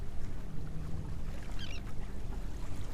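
A sailboat motors on one engine at about 5 knots, giving a steady, loud low engine drone and water rush throughout, with a faint brief chirping sound partway through.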